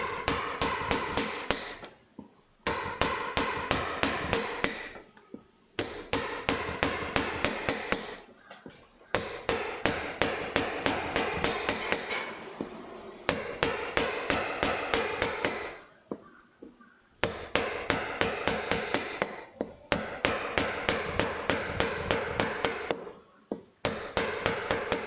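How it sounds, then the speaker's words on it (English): A heavy chisel struck repeatedly with a hammer, giving fast, even runs of sharp metallic taps in bursts separated by short pauses, close and clear throughout. "I'll finish off with a heavier chisel,"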